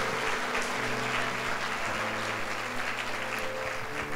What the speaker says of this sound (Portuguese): Pode aplaudir o Senhor agora.